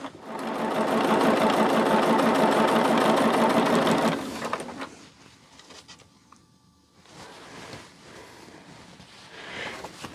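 A sewing machine runs fast and steady for about four seconds, stitching quilting fabric under the presser foot, then stops, leaving quieter handling clatter and faint mechanical ticks.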